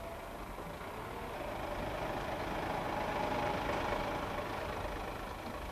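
An offshore racing boat engine runs at a steady, throaty idle with a rough low rumble, swelling slightly in the middle before easing back, heard alone without talk.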